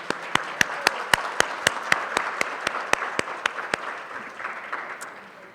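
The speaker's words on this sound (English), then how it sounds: "Go ahead and give yourselves a round of applause." Applause at a school division retirement banquet for retiring staff comes through as sharp, distinct, evenly spaced claps over a soft room murmur, growing sparser and fading out near the end.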